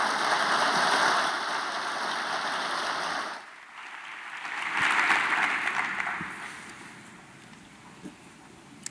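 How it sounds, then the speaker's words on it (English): A ceremony audience at the 2013 Ronald Reagan Presidential Foundation Scholars Program claps in a rain-like wash that fades after a few seconds, then swells again in a second, softer burst before dying away. "you all have been applauding so much"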